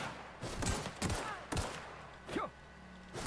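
Gunfire bursts from The Outer Worlds, a sci-fi shooter: several sharp shots spaced about half a second apart, moderately loud, over a low steady game background with no talking.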